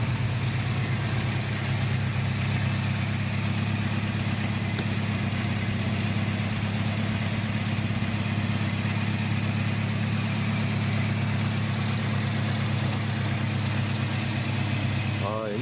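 A 1960s Volvo Amazon classic car idles just after starting, its engine holding a steady low rumble for the whole stretch while people talk nearby.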